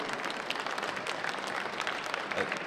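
Audience applause for a wrestling coach at an amateur wrestling tournament final in an Estonian hall, fairly quiet scattered clapping heard from a distance.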